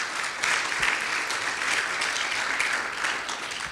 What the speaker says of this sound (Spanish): Gracias, un aplauso para ambos panelistas.